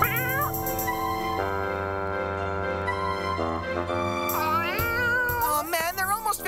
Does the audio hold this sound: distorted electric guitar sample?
no